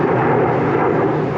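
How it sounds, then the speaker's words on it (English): A loud airplane passing overhead a rural homestead, a dense, steady broadband roar that fills the whole moment with no break and no voices. "Loud plane day."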